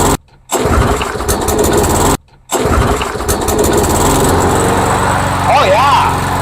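A rebuilt lawnmower engine is pull-started twice with short gaps, then catches and runs loudly and steadily up close. A voice is heard briefly near the end.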